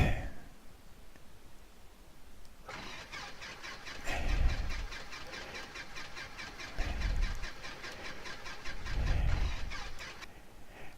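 A Super Cub light aircraft's piston engine in the flight simulator X-Plane 11 rises in throttle. It drones steadily with a rhythmic buzzing rattle and swells in three recurring low surges, moderately quiet throughout.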